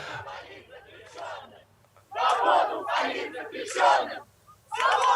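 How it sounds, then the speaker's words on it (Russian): A protest crowd chants for the release of political prisoners in loud rhythmic bursts, the shouted phrases repeating with short pauses between them. "Мы слышим, как толпа скандирует свободу политзаключенным"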